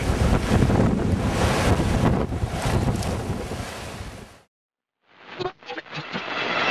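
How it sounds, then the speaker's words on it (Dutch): Strong, gusty wind buffeting the microphone outdoors, a loud roaring rumble that cuts out abruptly for a moment before renewed gusts flutter back in. "Wat een windje. Dat is niet normaal."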